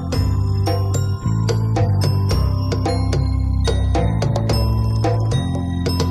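A tuned metal hand bell rings repeatedly with bright, sustained tones and overlapping chimes, struck in an irregular sequence, close and loud with no talk.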